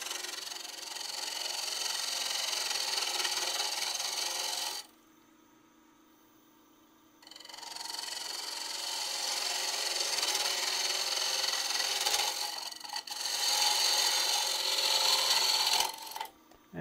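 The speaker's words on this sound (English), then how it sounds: "I'm going to use a half inch spindle gouge. Take away the wood on the end." Wood being turned on a lathe with a half inch spindle gouge, cutting away the end of a segmented box: a steady rasping, scraping cut that stops briefly for a couple of seconds, then resumes loudly.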